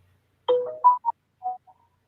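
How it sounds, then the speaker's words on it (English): A phone ringtone chimes out alone, a short bright melodic phrase of several tones followed by a few fainter notes fading into silence. "Somebody's phone."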